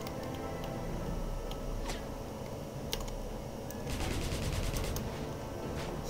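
Gunfire in the PC game Wolfenstein (2009), a steady rattling stream of rapid shots running throughout, with a denser burst near the end, at moderate loudness.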